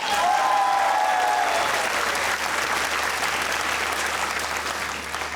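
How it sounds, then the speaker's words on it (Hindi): Dense, sustained audience applause fills a comedy talk-show studio, steady and loud throughout, with a faint tonal sting at the start and no talking. "तो तालियां बजाइए"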